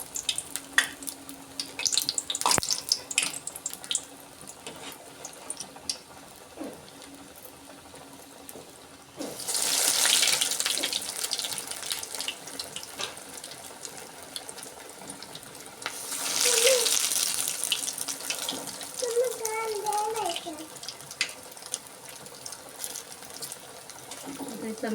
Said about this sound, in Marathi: हे बघा तेल तापलेलं आहे. मी एक हळूहळू सोडायचं आहे आपल्याला.